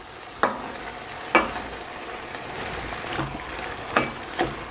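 Ground beef browns in a pan with chili powder being mixed in, giving a low steady sizzle broken by several sharp spoon knocks against the pan.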